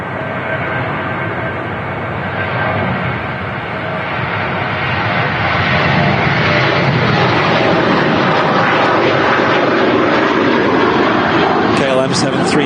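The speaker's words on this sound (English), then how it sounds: "KLM 737 heading back to Amsterdam Schiphol. Rotating there" A KLM Boeing 737 takes off at Manchester Airport, its jet engine roar building and staying loud and sustained as it rotates, with a brief higher noise near the end.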